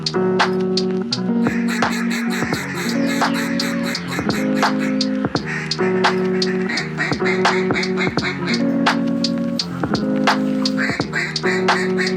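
Loud, rapid, continuous quacking fills the whole stretch during a duck hunt in Arkansas, likely from a hunter's duck call blown in repeated bursts, with scratchy outdoor noise underneath.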